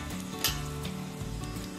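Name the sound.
asafoetida sizzling in hot oil tempering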